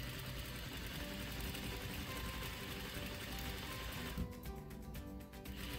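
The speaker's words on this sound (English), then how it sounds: "So we're stitching about an eighth of an inch away" A sewing machine stitching a swimsuit shelf bra, running as a continuous low mechanical whir and rapid needle chatter that shifts to sharper, quicker ticking near the end.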